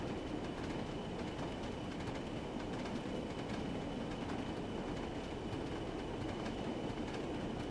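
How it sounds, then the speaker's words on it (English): A simulated train in Train Sim World 3 rolls over jointed track, its wheels giving a steady clickety-clack rhythm under a constant rumble, moderately near and with no voices. "There is just something about a clickety-clack"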